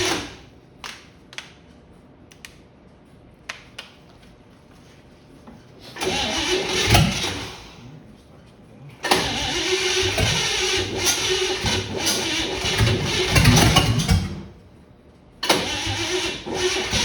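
A 1955 Chevy Bel Air engine cranks with a few short clicks, then catches in rough, uneven bursts, misfiring and firing on only one side, cutting out and restarting several times up close.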